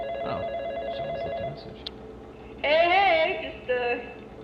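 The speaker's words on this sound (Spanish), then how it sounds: "donde recibe una llamada telefónica de nada más y nada menos que el chico del teléfono" A telephone rings in the Five Nights at Freddy's horror game, with short electronic ring bursts over a low hum and a louder, warbling burst toward the end.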